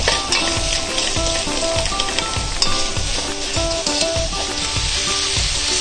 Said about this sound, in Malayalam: ഇതിലേക്ക് ആവശ്യത്തിന് ഉപ്പ് ചേർത്ത് നന്നായി വഴറ്റി കൊടുക്കാം.